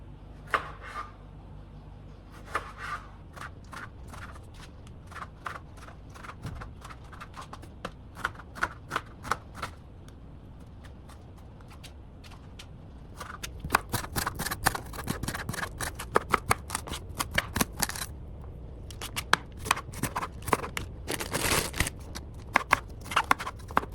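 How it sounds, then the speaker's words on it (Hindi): Tomato and capsicum chopped with a knife on a board, close, crisp, rhythmic taps that start sparse and quicken into fast, dense bursts of cutting. "so I chopped my vegetables"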